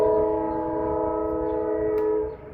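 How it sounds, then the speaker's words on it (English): A passing train sounds its horn in one long, loud, steady multi-tone blast that holds for over two seconds before cutting off, heard outdoors with no speech. "There's a train"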